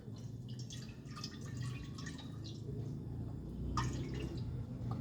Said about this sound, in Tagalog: So first maglalagay tayo ng tubig agad.